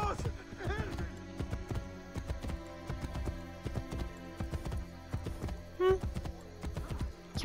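Horse hooves clip-clopping in Assassin's Creed Brotherhood, a quick irregular patter of galloping steps with an occasional snort, under someone speaking German.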